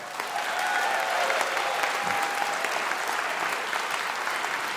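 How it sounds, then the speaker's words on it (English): A crowd applauding steadily and fairly loudly throughout, a dense wash of clapping with no voices over it. "you can clap for that"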